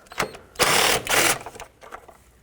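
A ratchet clicks in quick bursts while loosening a 10mm bolt on the intake of a 2003-2009 Toyota 4Runner, close and fairly loud with short pauses between strokes.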